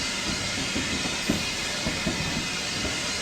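Peppercorn K1 steam locomotive in Train Simulator 2016 on the West Highland Line Extension, giving a steady rolling rumble and hiss with faint rhythmic creaks and knocks underneath, continuous and without voices.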